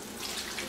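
About half a cup of water is poured into a hot Dutch oven between parchment and pot, a brief faint splashing trickle.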